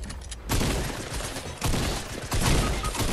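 Rapid bursts of automatic gunfire from a video game crackle loudly in several dense waves over about three seconds, with no talking.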